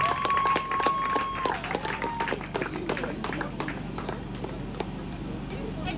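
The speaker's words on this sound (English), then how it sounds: "Let's clap for Ate Aboke" A crowd at an Urhobo cultural festival at UNIBEN claps for a quiz contestant, with scattered, uneven claps over a noisy outdoor background, a brief whistle-like tone, and voices mixed in.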